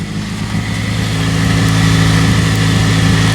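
A car engine with an exhaust leak runs close by, a loud, steady low rumble with a rough, buzzing edge that grows a little stronger as it goes.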